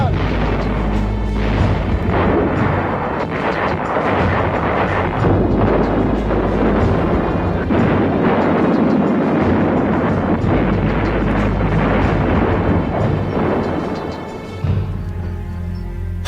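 Deep booms from artillery pieces roll and overlap continuously at a war reenactment, a dense, heavy rumble of repeated blasts with no clear gaps between them.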